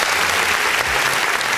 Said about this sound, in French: Applaudissez aussi.